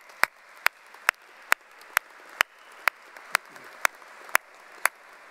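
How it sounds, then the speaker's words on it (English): At a Ph.D. commencement ceremony, sharp, evenly spaced claps ring out close by, roughly two per second, over a faint wash of audience applause. "please join me in giving them a round of applause"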